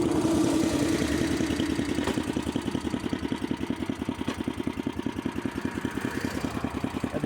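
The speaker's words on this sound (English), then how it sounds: "Get the engine idled down as low as it'll go" Sears Suburban mud mower with its engine idled down low, a close, steady rapid chugging of even thumping pulses that carries on throughout with no talk.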